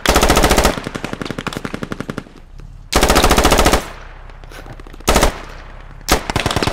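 Gunfire in the PC game Squad: several long, loud machine-gun bursts broken by short pauses, followed by brief single shots.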